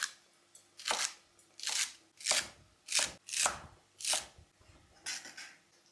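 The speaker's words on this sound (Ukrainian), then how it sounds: "Салеру нарізаємо, друзі, ось так." A knife chops celery on a board in about nine crisp, evenly spaced strokes, each a sharp close crunch followed by a brief pause.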